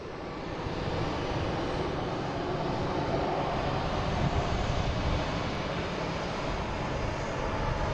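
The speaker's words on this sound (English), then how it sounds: "We got a Delta taking off next. This will be heading to Phoenix. A321neo flight 514." A Delta Airbus A321neo airliner takes off at Boston Logan Airport, its engines a steady, broad roar that holds loud and even throughout with no talk.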